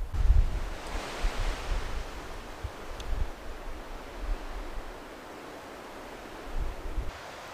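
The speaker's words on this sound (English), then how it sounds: "The wind's still whipping through the trees" Wind blows steadily through the beech trees of a forest, a broad, continuous rushing roar with gusty low rumbles, some pressing close on the microphone, and no voices.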